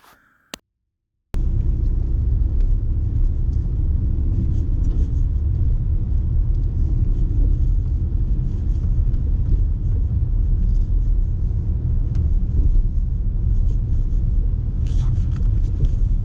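The steady engine and tyre rumble of a car on the road, heard from inside the cabin during a driving test, continues loud and unbroken after a brief click and moment of silence at the start.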